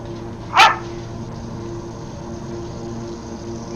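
A dog gives a single short bark indoors, sharp and fairly close, over a constant low hum of background noise.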